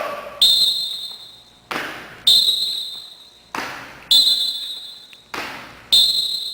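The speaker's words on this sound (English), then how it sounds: "he's going to do a vertical jump on every whistle" Sharp, bright whistle blasts sound at a steady pace during vertical-jump drills in a fitness session, each blast cutting in loud and alternating with the heavy thud of landings, all fairly close.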